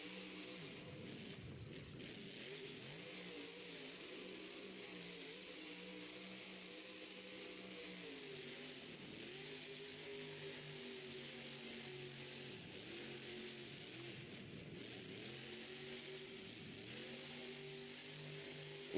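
Monster truck engine at a stadium freestyle run, a steady distant roar with repeated revving swells over a long stretch; the truck had just caught fire.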